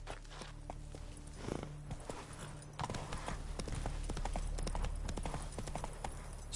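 Horse hooves trotting in the video game The Witcher 3, a steady, continuous clip-clop rhythm, close and clear throughout with no talking.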